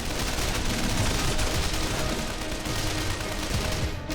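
Dense, continuous battlefield gunfire from the Men of War: Condemned Heroes strategy game, a steady loud roar of overlapping shots with a machine gun firing amid the din, no talking.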